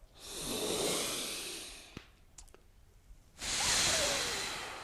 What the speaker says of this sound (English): Sort of pucker the lips and